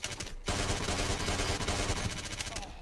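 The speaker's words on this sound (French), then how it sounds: "J'ai vidé un chargeur dans sa tête pour qu'il meure." Rapid automatic gunfire in the video game Red Faction II, a dense, loud burst of shots that begins abruptly after a brief silence and continues steadily throughout with little let-up.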